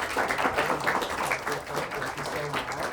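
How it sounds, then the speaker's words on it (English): Audience applause at a Barnes & Noble bookstore author event, a steady wash of many hands clapping at moderate volume, with voices talking underneath. "a little round of applause here"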